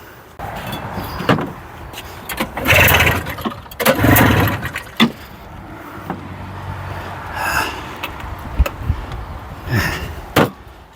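A 1981 John Deere snowmobile engine, newly fitted with a fuel pump, is cranked in several separate loud bursts spread across the stretch, with short quieter gaps between attempts.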